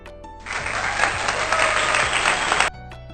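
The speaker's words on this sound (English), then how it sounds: "clap," A crowd of hands clapping in steady applause as a body-sound example, a dense even burst lasting over two seconds that cuts off abruptly, with no talk.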